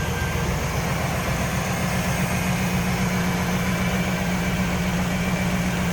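A 1995 Pontiac Firebird Trans Am's LT1 V8 engine idles steadily and smoothly, a continuous low rumble with no revving, close by and alone.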